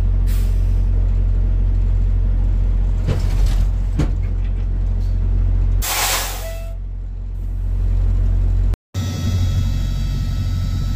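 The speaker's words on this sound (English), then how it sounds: "So I did just supply air to the trailer." A semi truck's air system hisses steadily as it supplies air to the trailer and inflates the air bags, under a continuous low diesel idle rumble with a brief louder burst of air midway and a short cutout near the end.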